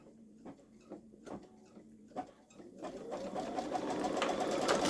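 A Babylock Solaris embroidery machine stitches a background color, starting with quiet irregular taps and clicks, then building into a faster, louder whirring stitch toward the end.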